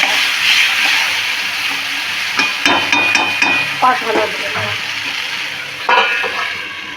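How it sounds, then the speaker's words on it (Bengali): Marinated mutton sizzles loudly in a pan for a curry, with a steady hiss of frying broken by clattering scrapes and knocks as it is stirred with a utensil. "এবার ভালো করে কষাতে দেবো, সিমে আছে ঢেকে ঢেকে মাংসটা কষতে থাকবে।"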